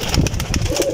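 A pigeon or dove coos in repeated soft, low calls, close and fairly loud, with faint chirps and light background sounds around it and no talk.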